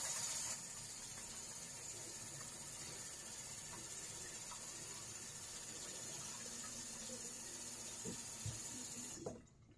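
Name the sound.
hot water running in sink for head rinse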